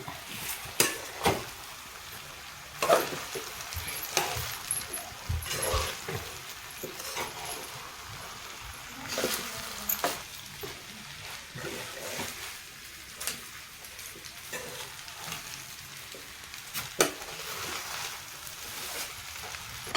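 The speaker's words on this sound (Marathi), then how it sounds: "आता याला चांगलं मिक्स करून घेऊ आपण" Sabudana khichdi being stirred in a pan, Maharashtrian style, with repeated scraping and clattering strokes of a spoon against the pan at an uneven rhythm, fairly close and moderate in volume, with no talking.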